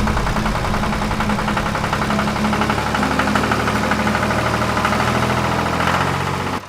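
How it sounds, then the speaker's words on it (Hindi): A giant tractor's engine in an animated cartoon runs steadily, a loud, knocking idle rumble that holds for several seconds with no voices on top. "इतने में एक जायंट ट्रैक्टर के साथ जॉकी नाम का व्यक्ति आता है।"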